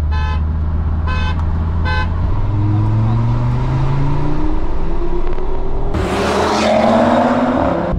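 Three short horn toots, then Audi RS3 engines rising in pitch as the cars launch in third gear from 30 km/h in a drag race, accelerating hard through the gears, with a burst of rushing noise near the end.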